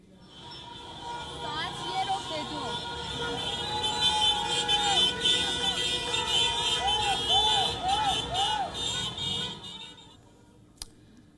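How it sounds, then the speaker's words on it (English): Car horns honk again and again on a busy Tehran street while a crowd of protesters chants beside the traffic, the voices rising and falling over steady road noise. "commuters are honking their horns as a group of Iranian protesters chant on the side of the street"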